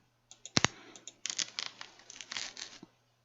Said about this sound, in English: I'm going to go for banana cut. Kind of sounds like they're sawing through something.